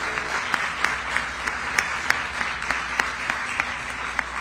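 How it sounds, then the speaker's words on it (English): Crowd applause at a rail tunnel groundbreaking ceremony in New Jersey, dense continuous clapping with a few sharp individual claps standing out, steady and fairly close. "let's give another round of applause to the people who have built this country and continue to build it today"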